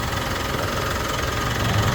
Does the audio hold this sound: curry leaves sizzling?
no